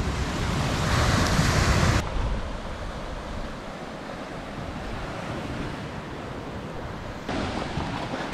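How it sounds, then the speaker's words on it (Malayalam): Surf rolls onto Ettikkulam beach, a constant broad wash of breaking waves mixed with heavy wind buffeting the microphone, louder at the start and again near the end. "ഇതാണ് ബീച്ച് കേട്ടോ."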